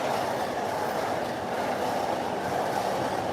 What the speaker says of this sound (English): That's the Keihin Tohoku line and the Yamanote line going by.